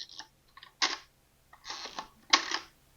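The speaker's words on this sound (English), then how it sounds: "We have our film advance knob." Film advance knob on a Fujica G690 BLP medium format camera being wound, giving several close, crisp mechanical clicks and short ratcheting bursts separated by brief pauses, with no talking.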